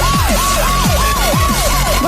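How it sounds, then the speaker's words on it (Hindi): An emergency siren wails in a steady repeating up-and-down cycle, loud and continuous throughout with no talking over it. "वह शोर क्या है? सायरन, क्या चल रहा है?"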